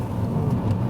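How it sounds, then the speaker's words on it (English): Kia Rio 1.0 T-GDI 120 hp hatchback driving over very bumpy roads, heard from inside the cabin as a steady, loud low rumble of road and engine noise with slight thumps, no talking. "So now we are going on very bumpy roads, and it's a comfortable"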